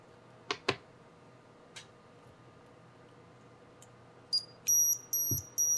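Vortex 250 Pro drone receiver, newly powered up, emits a series of short, bright electronic beeps near the end, including a steady pair of tones, after a few faint clicks in a quiet room.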